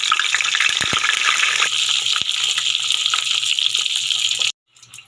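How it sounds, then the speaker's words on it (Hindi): Frozen homemade samosas frying in hot oil, a loud continuous close sizzle and bubbling with a few clinks, cutting off abruptly near the end, no voices. "तो मैं समोसे फ्राई करके आपको दिखाती हूँ।"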